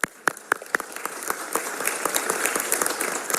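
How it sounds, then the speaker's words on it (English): An audience at a city council meeting applauds, starting with a few sharp individual claps that quickly swell into sustained, moderately loud clapping from a room of people. "We can give them a round of applause."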